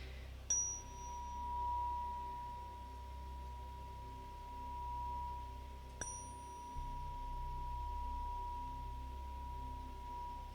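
A faint steady sine-like tone rings over a low hum, with two brief bell-like chimes marking its start and a later point; no voices.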